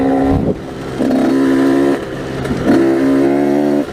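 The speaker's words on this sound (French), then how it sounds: "je maîtrise la moto à peu près bien" A 2017 KTM 85 SX dirt bike engine revs hard three times, each rise climbing to a high buzzing pitch and holding before dropping back to a lower idle, close and loud with no talking.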